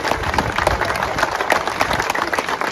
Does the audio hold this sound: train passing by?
no